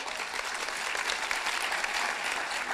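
Steady, vigorous clapping from the audience at a nurse pinning ceremony, a thick, continuous roar of many hands that holds at an even level throughout.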